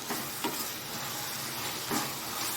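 Chopped tomatoes sautéing in a pan for tomato rice, giving a steady, soft sizzle and hiss with a couple of brief stirring scrapes, close up and without talk.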